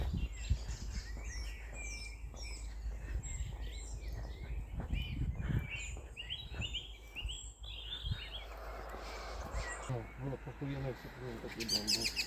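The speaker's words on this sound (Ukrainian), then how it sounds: "Гарно, пташки співають." Faint birds chirp and twitter outdoors in Ireland after rain, with quiet voices talking softly in the background.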